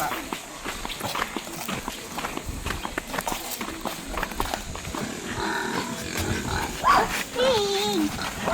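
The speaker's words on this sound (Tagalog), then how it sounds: "Baba muna tayo para makita natin yung mga inahing baboy" Pregnant sows on a farm shuffle and grunt in their pen, with busy trampling and scattered squeals under a person talking nearby.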